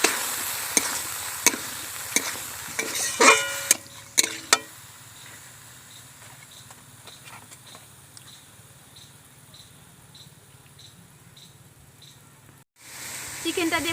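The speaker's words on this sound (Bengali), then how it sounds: "এবার আমি চিকেন দিয়ে দিচ্ছি।" Chicken pieces added to a pan of spiced masala for chicken rezala, with a few sharp clatters of a spoon against the pan early on, then a steady low sizzle with soft periodic ticks of stirring.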